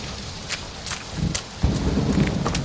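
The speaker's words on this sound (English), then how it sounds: "This storm is beyond the pale." A thunderstorm rumbles with steady rain, deep thunder rolling and swelling midway through while a dense hiss of rainfall and scattered crackles continue throughout, with no voices.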